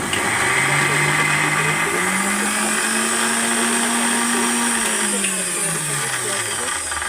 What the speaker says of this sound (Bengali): দেখো এটাকে আমি মিক্সিতে করে বসিয়ে দেবো